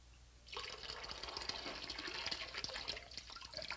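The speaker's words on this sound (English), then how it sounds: "I'm going to fill this hose." Water fills a hose from a tub for siphoning, a faint close trickling and gurgling splash that starts abruptly and runs steadily for a few seconds.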